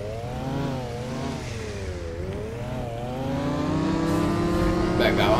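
Game motorcycle engine from the snow sports title Snow on PS4, a mid-pitched harmonic hum that wavers and dips before rising steadily, with a voice talking faintly underneath.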